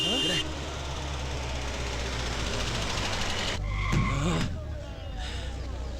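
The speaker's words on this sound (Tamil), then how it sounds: "அண்ணாடி வைத்தியநாதர் வண்டி வருதுண்ணே." A vehicle rolls in with a sustained engine rumble, then a burst of braking and tire noise near the end, in a dramatic film scene with people talking over it.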